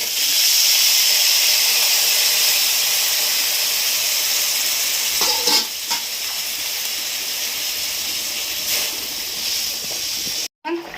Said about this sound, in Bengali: ফুটছে